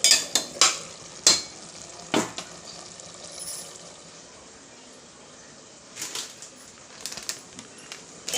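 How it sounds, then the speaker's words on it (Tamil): Tomatoes sauté in oil for tomato rice, a low continuous sizzle under several sharp clinks and scrapes of a spoon stirring against the pan, close and fairly quiet. "நல்லா எண்ணெய் பிரிஞ்சு வர அளவுக்கு வதக்கணும்"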